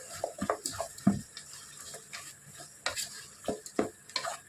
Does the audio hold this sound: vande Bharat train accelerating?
no